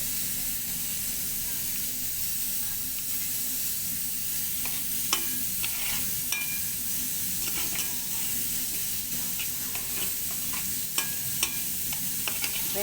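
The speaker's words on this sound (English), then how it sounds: "Now we add in the pandan leaves." Pandan leaves frying in a pan for a home-cooked mutton curry, a steady loud sizzle and hiss with occasional small clinks of stirring, close by.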